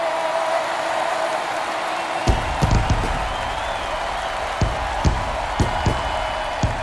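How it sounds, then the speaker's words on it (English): A stadium crowd in MLB The Show 22 murmurs steadily at Angel Stadium on opening day, broken by a few sharp claps and thumps over the broad roar. "The crowd is amped up, ready to get this season underway"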